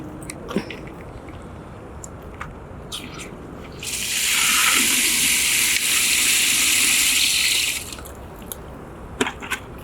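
Water gushes from a tap for about four seconds to rinse out a compost container, a steady bright hiss between quieter handling noises and small clicks.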